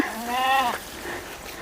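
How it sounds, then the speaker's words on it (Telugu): A single sheep bleats once, loud and close, a wavering nasal cry lasting under a second, followed by quiet outdoor ambience. "గొర్రెలు"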